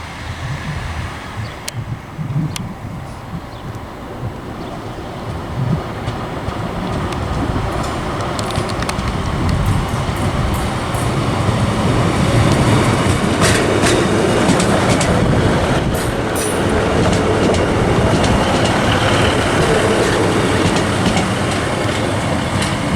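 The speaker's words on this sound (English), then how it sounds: "departing now is the 1427 East Midlands Train service to Skegness from Nottingham." An East Midlands Trains class 156 diesel unit pulls out of Grantham station. Its engine rumble builds steadily while wheels click and squeal on the rails, loud and close for over twenty seconds.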